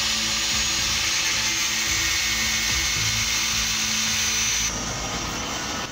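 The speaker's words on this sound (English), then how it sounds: "we're gonna try and cut off round here, get the inner plate out, and grind these off" Power tool whining loudly and steadily while cutting and grinding off bolts on the mangled clutch flywheel of a Sprinter van, a continuous harsh grinding roar that shifts in tone near the end.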